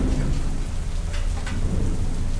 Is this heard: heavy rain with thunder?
yes